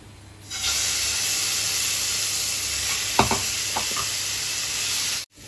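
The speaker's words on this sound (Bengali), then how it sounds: "চিংড়ি মাছটা আগে ভেজে নেব" Salted, turmeric-coated prawns frying in a hot pan sizzle loudly with a steady hiss after they go in, broken by a few brief crackles and stirring scrapes before it cuts off.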